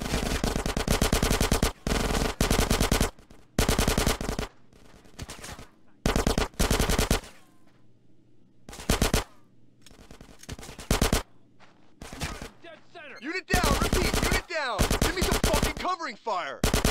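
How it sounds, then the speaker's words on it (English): Rapid automatic gunfire from the video game GTA San Andreas comes in loud, repeated bursts separated by short gaps, with faint shouting voices in the quieter moments. "Get some suppressing fire in there."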